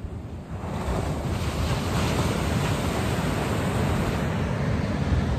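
Ocean surf at the Jersey Shore rolls in as a continuous broad roar of breaking waves, with wind buffeting the microphone throughout and no voices.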